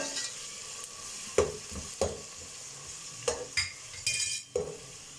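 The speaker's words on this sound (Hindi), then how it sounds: "इसकी 30 सेकेंड जो है वो भुनाई कर लेंगे प्याज के साथ" Rice frying with onions in a pan for chicken pulao, a steady sizzle broken by several sharp scrapes and clinks of a spoon stirring against the metal, close and fairly loud with no voices.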